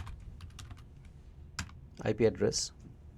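Quick, light keystrokes tap on a computer keyboard while network configuration commands are entered, close and soft, with a brief burst of voice near the end.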